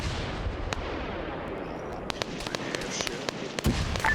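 Fireworks burst in an Arma 3 military game, a friendly firework set off during a nighttime FIA campaign mission, giving a string of sharp cracks and pops over a rumbling, noisy battlefield background.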